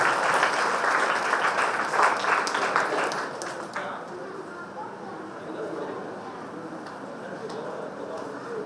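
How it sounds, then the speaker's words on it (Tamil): An audience at a Narayana Guru Educational Trust gathering claps loudly for about four seconds, then the clapping thins to a faint patter while people talk. "மிகச்சிறந்த பாராட்டுகள், கைதட்டுங்க."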